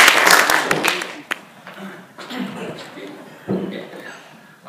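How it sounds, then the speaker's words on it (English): Audience applause at a tech conference, a short burst of clapping at the start that quickly fades, followed by a speaker talking. "Give applause to Indoguardika."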